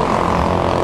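A damaged, modified Yamaha Mio i 125 scooter engine that has blown up gives a loud, steady, rough mechanical drone, heard close and alone.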